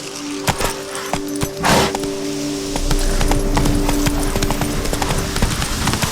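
Horse hooves clip-clop steadily in The Witcher 3, a rapid rhythmic gait of close, loud hoofbeats over a continuous low rumble of ambient game sound.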